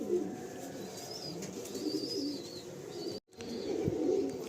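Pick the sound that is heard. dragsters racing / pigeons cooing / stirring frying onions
pigeons cooing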